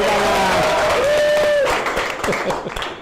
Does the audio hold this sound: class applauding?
yes